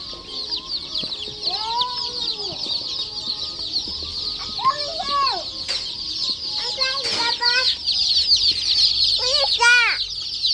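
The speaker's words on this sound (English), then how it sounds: "These are chickens, and behind you, look behind you." Close, loud peeping and clucking from a group of chickens, with overlapping calls throughout and a voice mixed in at moments.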